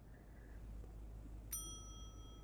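A single bright ding from a reception desk bell in The Wolf Among Us, ringing out and fading over a low background hum.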